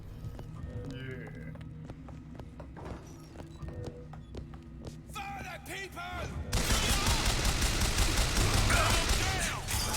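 Gunfire shootout in Bioshock Infinite: scattered sharp shots crack out over ambient game sound, then a dense, loud burst of rapid fire takes over in the second half.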